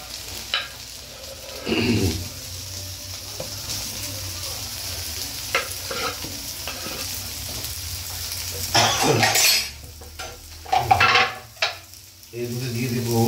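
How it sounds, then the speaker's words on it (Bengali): Boiled potato pieces are tossed into a sizzling pan and stir-fried, with scraping and metallic clanks of the spatula against the pan over a continuous crackling sizzle. "এর মধ্যে দিয়ে দেবো সেদ্ধ করা পিস পিস করা আলুটা"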